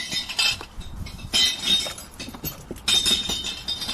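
Green glass bottles clatter and chink as they are tossed into a bottle bank, in three loud bursts of rattling clinks separated by quieter gaps, with faint ambient noise between.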